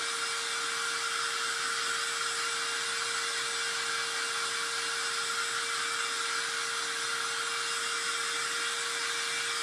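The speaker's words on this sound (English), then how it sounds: "So, my little handy dandy dryer." A hair dryer blows steadily at close range, a continuous whooshing roar with a faint high motor whine, unchanging for the whole stretch.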